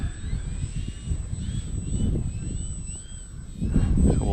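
A Ranger 1220mm RC plane takes off in strong wind, its electric motor whining with rising, wavering pitch over low wind rumble and growing louder near the end.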